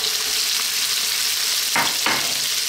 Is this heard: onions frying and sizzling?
yes